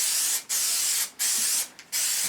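Plastidip rubber coating sprays from an aerosol can in three long, steady hissing bursts with short pauses between, laying down a heavy finish coat close up.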